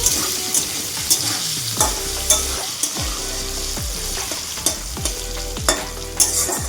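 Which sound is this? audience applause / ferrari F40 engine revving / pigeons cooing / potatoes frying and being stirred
potatoes frying and being stirred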